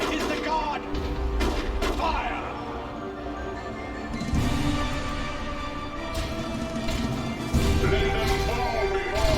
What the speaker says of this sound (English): Grenade thrown on top of the stormtroopers.